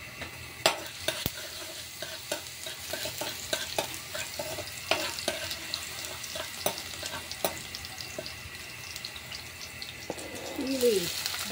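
Garlic sizzling in hot oil in a pan for adobong labong, with stirring scrapes and clinks throughout and soft faucet-like water sounds near the end, no talking.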